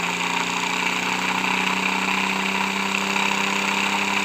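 Electric motor running steadily with a continuous even hum and whine, no change over the few seconds, close and moderately loud with no talk.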